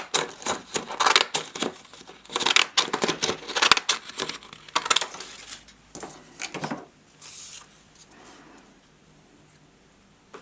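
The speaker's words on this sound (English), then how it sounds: "These wee scissors will give a patterned edge." Small decorative scissors cutting a patterned edge into paper, a run of crisp, close snipping and rustling in bursts that fades to quieter handling near the end.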